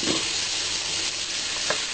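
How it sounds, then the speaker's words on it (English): Dishes being washed at a kitchen sink, a steady hiss of running water with faint clinks and splashes, close and continuous, no talk. "I'm over here washing dishes. There might be a little extra sink noise going on."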